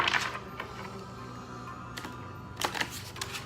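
Tarot card deck being shuffled by hand, with soft scattered riffles and sharper clicks of stiff cards, a few louder bursts near the end over a quiet room.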